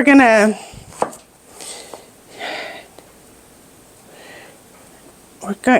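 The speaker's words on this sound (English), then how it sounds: "I want them to be not too big. So let's quarter them." A knife quarters vegetables on a cutting board, a few separate chopping knocks spaced out over several seconds, close by, with brief breathy vocal sounds at the start and end.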